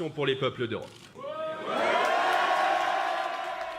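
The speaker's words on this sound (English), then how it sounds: "addressing a euphoric crowd to music and chanting of his name" Euphoric crowd at a National Rally campaign event for a politician in France, a dense roar of cheering and chanting swelling in after a few seconds of a voice speaking, then holding steady and loud.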